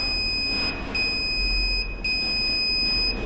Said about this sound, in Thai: พอแตะกับตัวบัสเซอร์ก็จะมีสัญญาณเตือนนะครับ